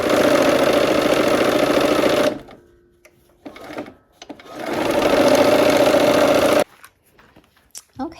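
Sewing machine stitching a quarter-inch seam on a Christmas tree quilt block, two steady loud whirring runs of a couple of seconds and four seconds, with fabric handling and faint talk in the pauses.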